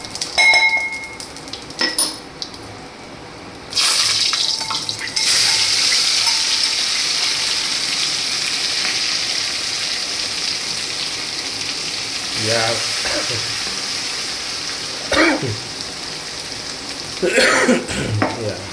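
Mustard seeds and a spoonful of cumin sizzle and crackle in hot oil, a steady close frying hiss that swells after a few seconds and carries on with occasional sharper pops and clinks.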